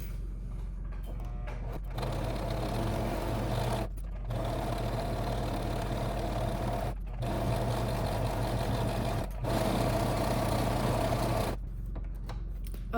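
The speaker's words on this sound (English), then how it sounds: "you're going to sew along the edges outside of the pins that we put in earlier" Sewing machine stitching along the edges of a fabric reusable pad, a steady close mechanical whir running in long bursts with short pauses between seams.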